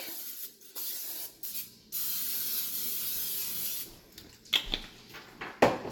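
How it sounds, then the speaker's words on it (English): Several bursts of olive oil cooking spray hissing from an aerosol can, close by, separated by short pauses, with a few light clicks and handling noises near the end. "we'll just spray it with some olive oil cooking spray, just so it doesn't stick"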